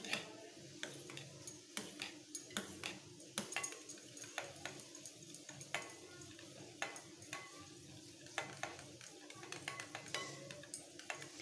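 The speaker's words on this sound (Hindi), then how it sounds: "एबे आमे दही को गोटे चामच साहाय्य भल भावे फेंटी नबा" A spoon whisks yogurt briskly in a bowl for chicken korma, giving a steady run of close, sharp clinks and scrapes against the bowl with no talking.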